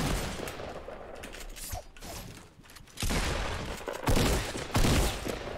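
Pump shotgun fire in the video game Fortnite: loud, dense bursts of gunfire mixed with mechanical clacks and busy game noise, with no voices.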